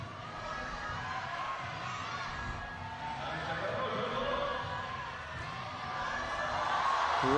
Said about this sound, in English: Every movement she does, the crowd roar her through.